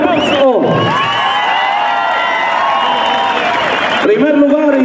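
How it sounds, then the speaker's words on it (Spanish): At a bull contest in La Griega, Querétaro, a crowd cheers and whoops loudly in a sustained roar, with shouting voices layered over the noise and a short lull at each end. "fuerte, el aplauso."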